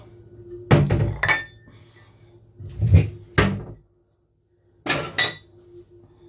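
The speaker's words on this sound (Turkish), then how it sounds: "Şunu da bir tuz doldurayım." A salt shaker is refilled with salt in a home kitchen: a few short bursts of clinking, rattling and pouring, separated by brief quiet pauses, close and fairly loud.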